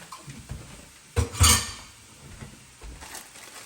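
Cooked onions and peppers scraped and cleared off a cutting board while making Philly cheesesteak sliders, a short clatter of utensil on board with one louder scrape burst in a quiet kitchen.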